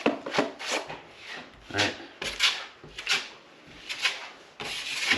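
Drywall compound being smoothed over drywall tape during a garage makeover, heard as a series of scraping, rubbing strokes with short pauses between them, close and fairly loud, with a brief spoken word.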